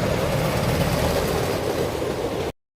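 Wooden roller coaster train with an out-and-back layout rolling along its track, a steady dense rumble and rattle that holds evenly loud and close for a couple of seconds, then cuts off abruptly.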